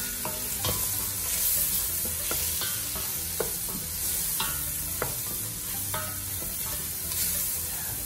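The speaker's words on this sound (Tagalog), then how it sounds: "Hayaan lang natin mag-caramelize ang sibuyas" Onions caramelize in a pan with pepper for dinuguan, giving a steady close sizzle and fry with repeated sharp taps and scrapes of a utensil stirring the pan.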